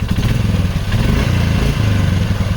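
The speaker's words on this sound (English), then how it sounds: "Idling, it's a little on the low side." A 1995 Polaris Magnum ATV engine idles steadily just after a stator replacement. A low, even, chugging putter runs close and loud, with no talking over it.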